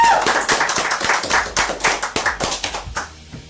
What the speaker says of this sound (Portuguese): Uma salva de palmas nesse estúdio.